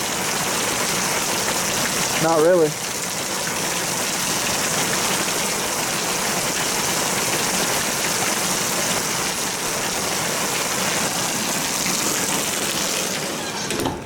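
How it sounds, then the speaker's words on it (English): Heavy rain pours down steadily in a dense, continuous hiss that fills the whole stretch, with a brief voice speaking near the start over the downpour. "It is pouring down."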